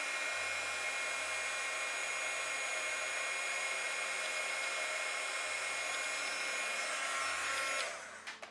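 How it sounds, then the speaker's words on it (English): A heat tool blows hot air steadily while heat embossing a handmade card, a constant close whirring roar that cuts off near the end, with no talking. "So now we're going to heat emboss this."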